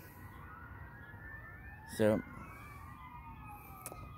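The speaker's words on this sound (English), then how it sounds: "there's all these, like, sirens and all that coming down the main street" Emergency vehicle sirens pass along a main street. The wailing tones rise and fall faintly in the distance beneath a man's speech, with a brief louder bump of sound partway through.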